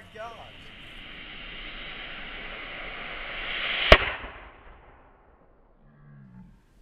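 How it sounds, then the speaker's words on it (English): A rising whoosh builds for several seconds toward one sharp, loud blast from an explosion beneath a rock that sends it flying, then a decaying rumble and near-silence. "our problem that we just modeled is an explosion happening underneath a rock, flying up in the air and coming back down"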